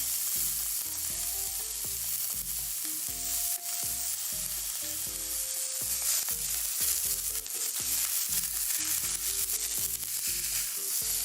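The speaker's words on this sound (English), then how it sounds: "let's go ahead and sear this thing" Meat searing in a hot pan, a dense continuous sizzle up close with rhythmic scraping and clattering as it is moved about, no one talking.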